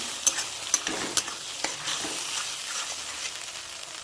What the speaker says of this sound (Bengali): 1 চামচ রসুন বাটা, 4 চামচে 2 চামচ আদা বাটা, এটা ভালো করে কষিয়ে নিয়ে